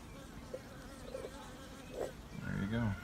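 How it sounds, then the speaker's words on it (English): A honeybee buzzes faintly close by during backyard honey harvesting, with a louder sweeping drone near the end as it flies past. "Oh, that bee got in there."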